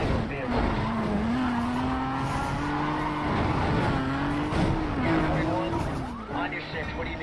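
Engine roar and squealing tires of a car in Need for Speed World during a police pursuit pit maneuver, a sustained loud drone with skidding screeches, under a voice.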